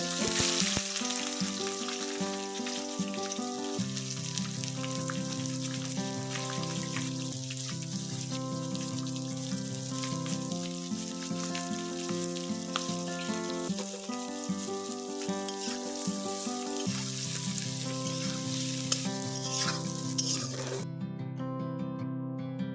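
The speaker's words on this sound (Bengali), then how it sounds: "পেঁয়াজটি ব্রাউন কালারের ভাজা ভাজা হয়ে গেছে" Onions sizzle and crackle in hot oil, frying to brown for chicken masala, under loud background music that plays throughout.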